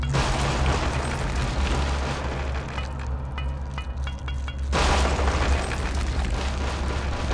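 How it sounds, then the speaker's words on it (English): Grenade blasts in Return to Castle Wolfenstein, a World War II shooter set in Bavaria: a loud, sustained roar of explosions with a brief dip midway before another heavy burst, close and alone. "there goes all my grenades"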